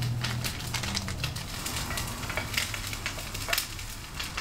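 Heavy rain patters on a frying pan outdoors, a dense, crackling hiss with sharper ticks of individual drops, fairly quiet and steady throughout.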